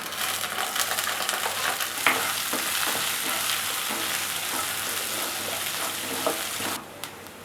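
Chopped onion and slit green chillies frying in a pan, giving a steady, loud, close sizzle with occasional stirring scrapes, before the sizzle drops off at the end.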